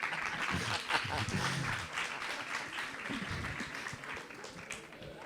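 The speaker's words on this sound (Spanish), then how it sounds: "Te aplaudieron y todo, ¿eh?" Audience applause following a talk at an international fantastic literature gathering on Gothic fiction; moderate clapping that gradually thins, with voices speaking over it.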